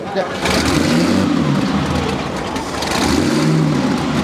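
Vintage Sunbeam racing car engine on the sands at Southport, firing up and settling into a steady, loud, rough rumble that runs throughout, with people talking nearby over it.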